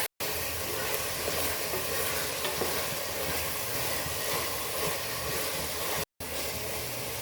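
Tomatoes with a tablespoon of salt sizzle steadily in a hot pan while being stirred, a close, continuous frying hiss with brief scraping, interrupted by two short dropouts.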